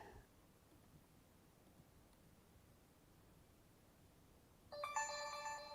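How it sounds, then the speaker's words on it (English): Phone notification alert sounding near the end, a bright burst of tonal chimes that follows several seconds of faint background hiss. "It's got a very annoying notification alert."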